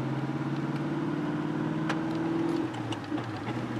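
A car engine running unevenly, heard from inside the vehicle as a close, steady droning hum with wavering tones and slight dips in pitch.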